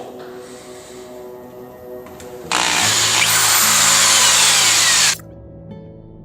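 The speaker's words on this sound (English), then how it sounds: "And then just drill the hole." A low hum gives way to a loud, steady power drill burst lasting a few seconds as it drills a hole in a saw blade, then cuts off abruptly back to the quiet hum.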